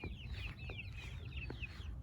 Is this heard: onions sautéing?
no